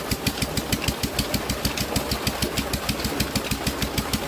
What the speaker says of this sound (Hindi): यहाँ पे डीजल का इंजन है पुराना